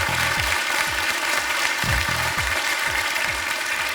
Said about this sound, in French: Applaudissements pour les encourager.